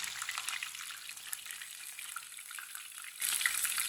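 Potato kebabs frying in oil on a low flame, a soft continuous crackling sizzle with fine popping, faint and close, growing a little louder near the end.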